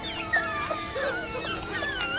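African wild dog puppies in the Kalahari whimper and squeal in a continuous, overlapping chorus of thin high whines, close and steady throughout.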